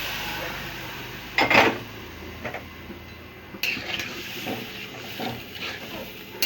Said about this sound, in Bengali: এবার আমি দিয়ে দিচ্ছি গরম জলটা